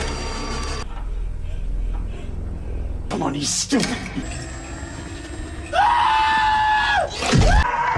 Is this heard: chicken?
no